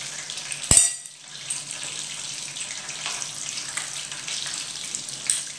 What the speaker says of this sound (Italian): Io continuo a friggere nel frattempo.